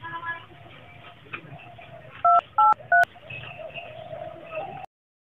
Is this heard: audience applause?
no